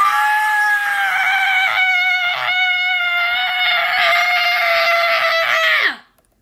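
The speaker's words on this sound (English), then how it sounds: "This is a scream that you always do." A cartoon character lets out one long, loud, sustained scream that holds steady for about six seconds, then drops away abruptly into silence.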